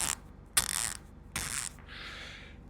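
Icon ratchet wrench clicking in short bursts, three quick close ratcheting runs with brief pauses, fairly quiet and alone.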